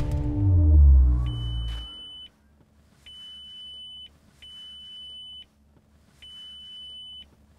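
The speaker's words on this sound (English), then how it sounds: "After 6 long beeps, there will be a complete different 7th beep" A low engine-like rumble fades out, then a series of long, steady electronic ignition warning beeps from a Lamborghini Gallardo sound one after another with short gaps over a faint hum, before starting.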